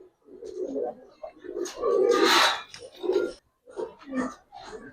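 Giribaz pigeons cooing close by, several throaty, rolling coos in short bursts with brief pauses, one longer swelling call in the middle, alone without talk.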